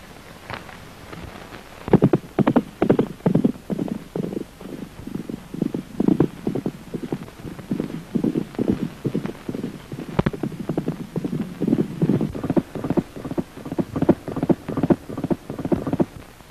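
Horses galloping in a race in a 1939 film, a long run of rapid rhythmic hoofbeats that stays close and strong throughout without speech.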